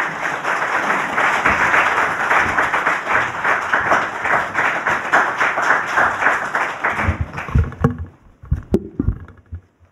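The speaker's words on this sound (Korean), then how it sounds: "박수로 맞아주십시오." An audience claps loudly and continuously at the launch ceremony of a constitutional reform citizens' assembly. The applause thins and dies away after about seven seconds, followed by a few scattered thumps and rustles.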